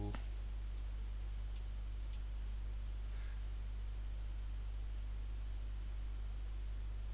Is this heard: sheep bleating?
no